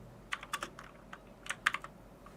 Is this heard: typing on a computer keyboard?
yes